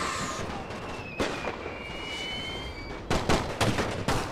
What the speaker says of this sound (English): see if you can't shoot them down as they advance now